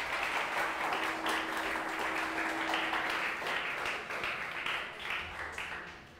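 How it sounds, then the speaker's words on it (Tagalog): A church congregation claps for Jesus during a worship service, sustained applause with distinct individual claps flickering through the wash before it gradually thins and fades near the end. "Palakpakan po natin si Jesus. Yun pong the best na palakpak para kay Lord."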